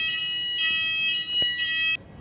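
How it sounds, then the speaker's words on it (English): A fire alarm in a museum sounds a loud, steady electronic tone pulsing in repeated bursts, then cuts off abruptly near the end. "Fire alarm's gone off."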